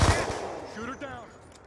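Gunfire from the Black Ops 2 video game: a loud shot opens, then lighter follow-up bursts, with game voice chatter over the top.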